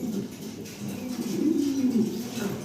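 German Beauty Homer pigeons coo nearby with low, throaty, rolling calls that swell in the middle of the stretch, with no talking.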